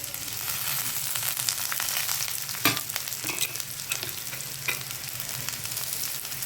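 Spices roasting and sizzling in a hot pan with fried onions, a steady close hiss with a few sharp clinks and scrapes of stirring, no talking.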